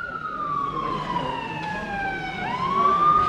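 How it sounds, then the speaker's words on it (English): A police siren wails steadily at a classic car show in Crewe, its tone sliding slowly down and then rising again, moderately distant over low traffic rumble. "Sounds like that police car's got its siren working."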